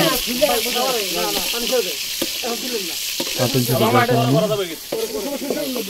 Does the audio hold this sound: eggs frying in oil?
yes